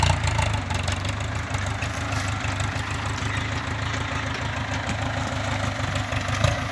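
Farm tractor engine running steadily at a low, throbbing idle-like chug while pulling out a six-wheel truck stuck in mud at a sugarcane field, close and continuous with no voices.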